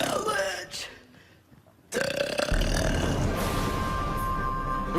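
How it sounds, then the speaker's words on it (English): A woman billed as a burping record-holder lets out a long, loud, gravelly burp shaped into spoken words, rumbling for about three seconds after a short lead-in of her voice. "Can you say Paranormal Challenge in a burp?"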